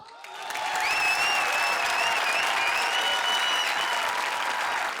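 A studio audience on a comedy show breaks into loud, sustained applause welcoming the competing teams, with steady clapping and a few cheers and whistles carrying throughout.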